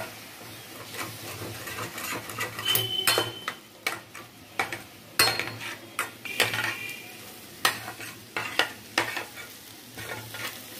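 Ginger-garlic paste masala frying with water in a pan for carrot masoor dal, repeated sharp scrapes and clinks of a spoon against the pan over a continuous sizzle, close and busy, no voices.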